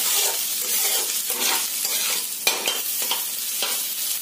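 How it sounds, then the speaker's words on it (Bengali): Egg and potato frying together in a pan, with a close, bright crackling sizzle and repeated scraping stirs of a spatula throughout, loud and without speech. "এবার এই দুটোকে মিক্সড করে ভেজে নেব।"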